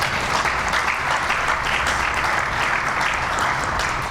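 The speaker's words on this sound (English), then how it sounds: "And you can clap for that." An audience at a groundbreaking ceremony claps in a dense, steady burst of applause, fairly close and even throughout, with no voices over it.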